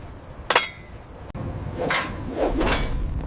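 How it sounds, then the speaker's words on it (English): Rivets being hand-hammered into the steel hull of the Titanic by squads of men, heard as a few sharp, loud metallic strikes spaced about a second apart over a low background clatter. "Hand-hammered by squads of men working in unison, turning the steel shank into a mushroom head."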